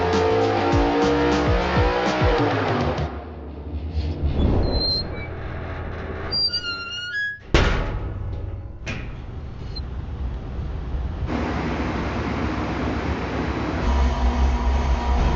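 A 4.8-liter V8 engine on a dyno roars and revs in bursts during a baseline pull, dropping off and surging again, with mechanical whines and a loud sustained drone filling the space.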